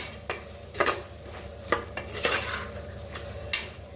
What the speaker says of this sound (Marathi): आता छान मिक्स करून घेऊया बघा छान असा मसाला भाजून घ्यायचा